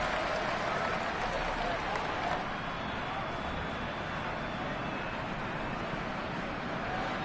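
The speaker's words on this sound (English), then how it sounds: "The crowd getting into it as we come up on a big 3rd down." A football stadium crowd roars steadily ahead of a big third down, a dense, sustained cheer that fills the whole stretch, with a commentator's voice faintly beneath it.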